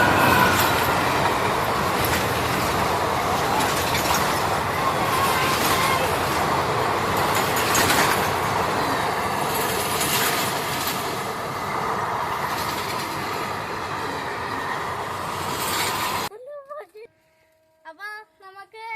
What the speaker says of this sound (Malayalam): അച്ഛന്റെ വീടിന്റെ മുമ്പിലൂടെ ട്രെയിൻ പോകുന്നുണ്ട്.